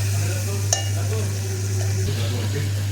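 Onions frying in a cooking pan as they are stirred, giving a steady sizzle with a few scraping strokes and a brief clink, under a constant low electrical hum.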